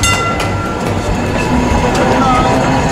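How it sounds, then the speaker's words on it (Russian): A tram rolls along Istiklal Street in Istanbul, its loud wheels rumbling and clattering on the rails close by, a continuous rolling noise amid street ambience. "Вот так катается трамвайчик по Истиклялю."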